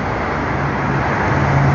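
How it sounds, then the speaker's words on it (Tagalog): Dense, heavy road traffic at night on a congested road in Saudi Arabia during Ramadan, heard from inside a vehicle as a steady, loud engine and road rumble with no talking. "Sobrang traffic sa itaas oh."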